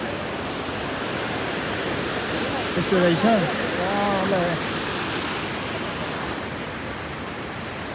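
Water flows steadily outdoors in a broad, even rushing wash like a stream or small fall, with people talking briefly over it.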